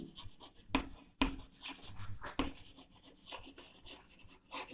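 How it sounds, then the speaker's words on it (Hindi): Marker or chalk strokes on a board in a chemistry lesson. Sharp taps and scratchy strokes come at an uneven pace, fairly close and quiet, with no speech. "तो लिखता हूं मैं"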